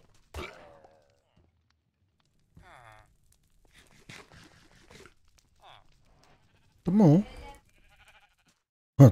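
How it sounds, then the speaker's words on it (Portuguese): Sheep bleat in Minecraft's All the Mods 9 modpack, a few short wavering calls spread over several seconds with one louder bleat near the end, between quiet footsteps and a brief spoken remark. "E tem as ovelhas."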